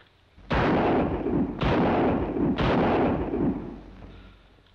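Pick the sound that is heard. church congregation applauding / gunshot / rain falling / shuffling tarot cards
gunshot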